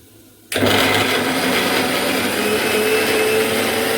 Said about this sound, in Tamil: நம்ம அரைச்சிக்கலாம்.